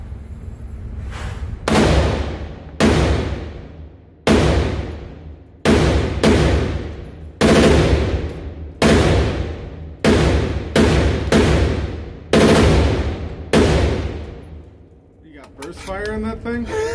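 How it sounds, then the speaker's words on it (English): A Sig Sauer M400 10.5-inch rifle fitted with a Hiperfire Hipertouch competition trigger fires rapid bump-fired bursts: about a dozen loud, sharp cracks in quick clusters, each ringing out briefly. Voices talk just after the shooting. "Burst fire on that thing?"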